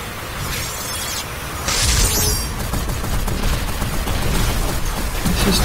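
Gunfire in the game Gear Up comes as rapid bursts of shots over a dense, loud rumbling background, with a sharper crackling burst partway through.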